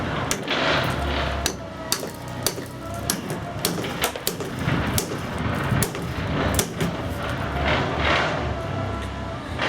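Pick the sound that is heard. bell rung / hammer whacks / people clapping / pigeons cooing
hammer whacks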